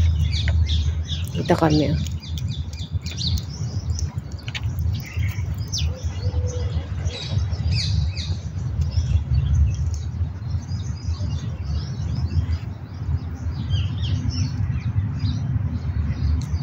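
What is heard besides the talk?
birds calling outdoors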